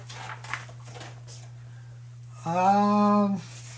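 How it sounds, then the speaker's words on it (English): A short, close whine or yelp from an Akita rises sharply and holds for about a second, with a low steady hum underneath and faint sounds before it. "My dog? Hey, Blaze? Blaze"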